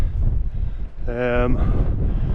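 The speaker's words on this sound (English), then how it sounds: "with these hills here beside us and this wind that we've got" Strong wind roars across an exposed hillside on Beinn Ghlas, a Scottish Munro, as loud, steady buffeting into the microphone, with a brief voice-like tone in the middle.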